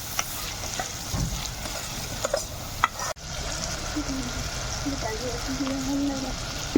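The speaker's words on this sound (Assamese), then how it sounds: "হালধি নিমখ দিয়াৰ পিছত অলপ লৰাই দিম, দিব পাৰিছে। অলপ লৰাই দিব এনেকৈ।" Fish curry fries in a pan as turmeric and salt are stirred in, a soft continuous sizzle with scraping stirs, and a voice speaks over it.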